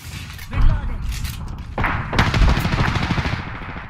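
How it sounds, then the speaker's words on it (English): Loud bursts of video game gunfire, two rapid volleys close together with thuds, while a voice speaks over them. "Shots fired at me. Taking fire."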